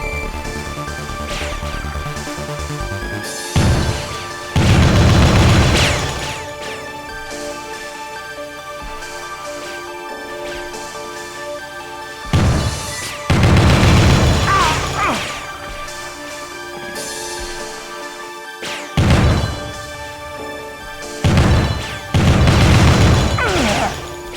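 Enemy gunfire in the Killer7 video game comes in loud, repeated bursts of crashing shots every few seconds over a steady musical background, with quieter stretches between the volleys.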